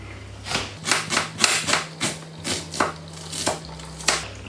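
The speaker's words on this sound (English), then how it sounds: "We chop it." A kitchen knife chops tuna pasta ingredients on a cutting board in about ten crisp, fairly regular strokes, each a sharp close knock, with a low steady hum beneath.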